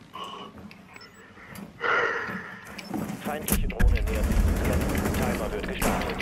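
Gunfire in the tactical shooter Rainbow Six Siege, a cluster of sharp shots and a rapid burst under loud, agitated talk, with clattering game noise throughout.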